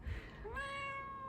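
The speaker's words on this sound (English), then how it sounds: "This is my little adorable black cat." A small black cat gives a single clear meow that rises in pitch and holds steadily, close and fairly quiet, with no talking.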